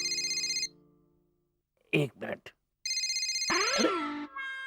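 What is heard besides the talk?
phone ringtone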